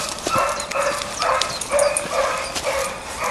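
A dog lets out a quick series of yips and short barks, close and lively, with a few faint whimpers between them.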